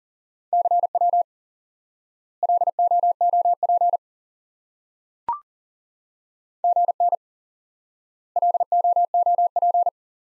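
Steady Morse code CW tone keyed in four bursts of short beeps with gaps between, plus one brief click near the middle; clean, mid-pitched and alone.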